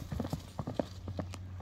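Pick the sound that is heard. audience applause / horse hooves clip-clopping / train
horse hooves clip-clopping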